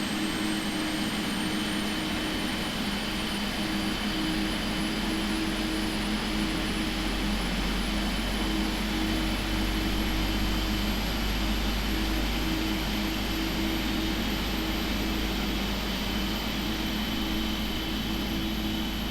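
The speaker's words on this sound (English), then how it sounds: "we can start the number 1 engine" Number 1 jet engine of a PMDG 777-200LR in the Prepar3D flight simulator spools up as a steady, loud whine and roar, with a slowly rising high tone over a continuous rumble.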